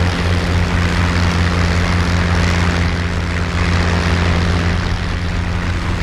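A propeller-driven warplane engine drones at takeoff in a combat flight simulation over Eindhoven in March 1945, a loud, steady, continuous roar with a deep hum and no talk.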